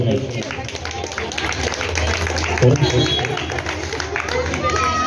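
Applause from the audience at a women's association Sankranti rangoli competition, a dense, steady patter of many hands clapping across the whole stretch amid crowd noise.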